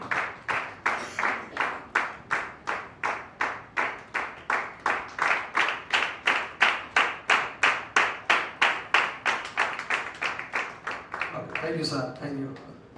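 An audience at a graduation ceremony claps in a steady, even rhythm of sharp beats, with voices rising briefly as the clapping ends.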